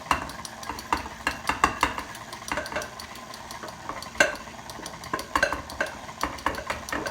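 An electric mixer running on low as flour is added to chocolate chip cookie dough: a soft, continuous churning with repeated light clicks and knocks against the bowl, fairly quiet and close.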